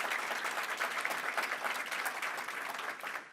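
A crowd at a New York governor's announcement event for a Rochester airport project claps steadily in an even, dense round of applause, fairly faint and distant, for the few seconds heard.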